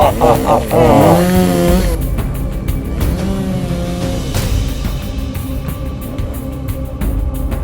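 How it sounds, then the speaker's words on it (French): A brief vocal outburst at the start, then a loud, rough chainsaw-like engine buzz revs and drones continuously up close. "j'arrive avec ma tronçonneuse"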